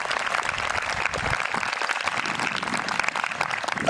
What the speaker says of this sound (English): Please give our dignitaries on stage a round of applause.